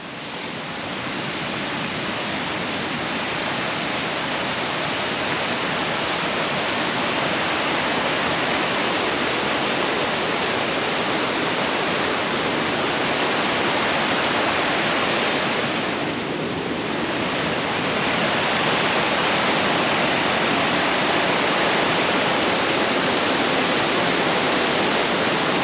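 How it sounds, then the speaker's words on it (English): Water flowing near the Balea waterfall on the Transfagarasan in Romania, a loud, steady rushing roar close by, unbroken and alone throughout, with some wind buffeting the microphone. "And I see here more flowing water."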